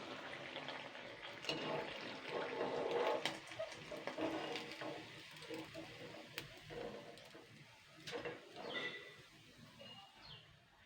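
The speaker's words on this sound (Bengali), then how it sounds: "লাল লাল করে এগুলোকে কিন্তু ভেজে তুলতে হবে" Pitha frying in hot oil in a home kitchen, a soft continuous sizzle and bubbling that swells and fades, with small clinks of a utensil and occasional faint background sounds.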